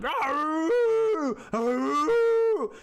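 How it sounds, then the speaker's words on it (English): Hunting dogs baying in long, drawn-out howling barks, two sustained calls rising and holding, loud and close with no talking. "So they start barking, like a lot."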